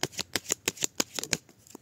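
Oracle cards being shuffled by hand, a quick run of about ten crisp, evenly spaced riffling flicks, close and clear with no speech.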